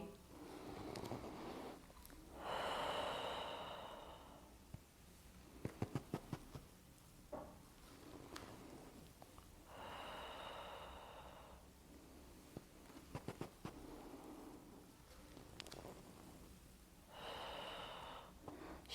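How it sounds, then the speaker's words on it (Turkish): Deep inhalations during a pregnancy exercise for scoliosis, three long breathy swells spaced a few seconds apart, with soft sniffs and small taps between them, close and fairly quiet. "Nefes al."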